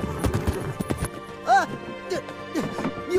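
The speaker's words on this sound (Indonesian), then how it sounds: "ia pun pergi dari sana dengan menunggangi kuda." Horse hooves clip-clop in an uneven rhythm as a rider sets off on horseback, mixed with music and a brief whinny-like tone in an animated fantasy story, fairly close and moderately loud.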